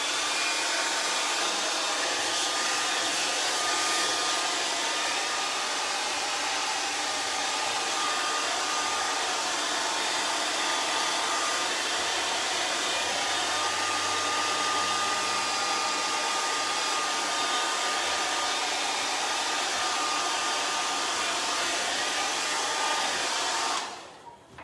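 A blow dryer runs loud and steady for about twenty-four seconds in a quiet art class, with a constant whooshing roar that cuts off abruptly at the end.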